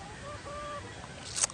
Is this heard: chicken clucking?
yes